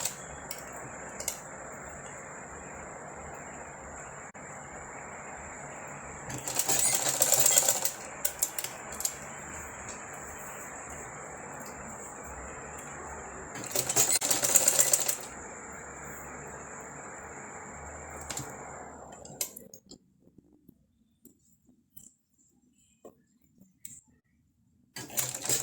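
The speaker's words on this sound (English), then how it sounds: "So I'm sewing the side of the closure down to the dome cap, attaching it to the dome cap" A sewing machine stitches the side of a wig closure down to a dome cap, a steady mechanical whir running for about twenty seconds with two louder bursts, then stopping into near silence.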